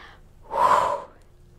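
A single audible breath during a pilates exercise, a close, breathy rush of air lasting about half a second, then quiet.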